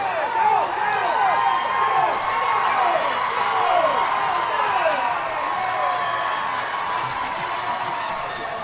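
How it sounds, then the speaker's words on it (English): Dense, loud crowd of students cheering and shouting throughout at a high school hockey state championship game, with whoops and whistles rising over a steady roar. "You guys can hear the crowd."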